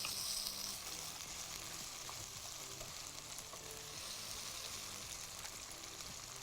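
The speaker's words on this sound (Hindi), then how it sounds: "टमाटर जो है उसको भी ज़रा सा मैश करना शुरू करते हैं" Masala fries in a pan while tomatoes are mashed into it, a faint, steady sizzle with soft stirring and scraping, close and without talk.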